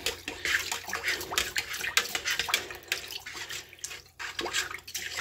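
Water sloshing and splashing in a kitchen sink as a pound of baking soda is stirred in to treat a stuck, slow-spinning garbage disposal; irregular close swishing and dripping, no talk.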